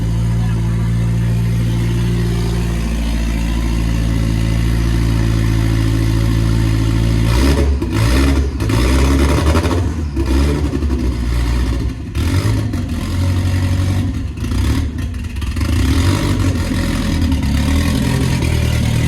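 A Lexus SC300 engine runs steadily at idle during exhaust repair, loud and close, with a few brief revs partway through and some voices in the background.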